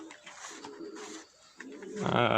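Soft, throaty coos from young racing pigeons repeat close by, followed by a burst of rustling or flapping near the end.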